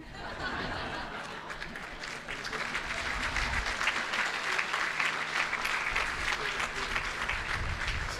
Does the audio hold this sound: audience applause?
yes